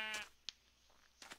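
A Minecraft sheep bleats in short game-audio bursts, one near the start and another near the end, with a brief click between and a quiet background otherwise.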